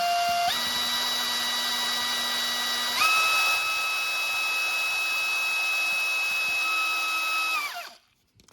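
A small drill with a very fine bit bores into plastic in a steady, high, whining hum that rises in pitch partway through and then winds down at the end, with no one talking.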